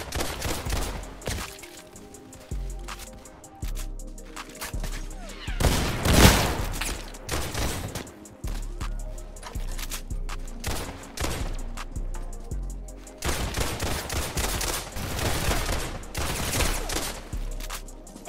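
Repeated gunshots from the Roblox game Criminality crack out in loud clusters and rapid volleys, some sharp single shots and some dense bursts, with little talk over them.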